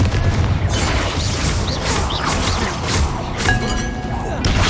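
Spell explosions burst in Hogwarts Legacy, a dense run of booming blasts and crashing impacts layered over combat noise, loud and continuous throughout.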